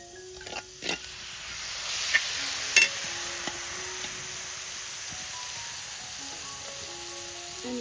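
Dried jawla shrimp fried with masala in a pan over a wood-fired stove, with a soft steady sizzle and a few sharp spoon taps and scrapes near the start, close and fairly quiet, no talking.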